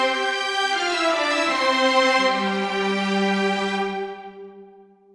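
An orchestral melody of violins, violas and cellos doubled by clarinets, with rich sustained tones that shift pitch midway and then fade out to silence.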